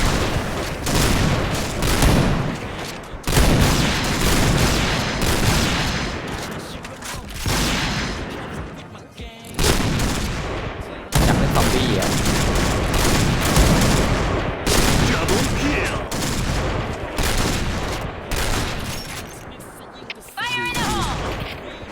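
Loud, rapid gunfire fills a shooter video game with quick-scope sniping, sounding as dense volleys and sharp shots that come in bursts separated by a few short pauses.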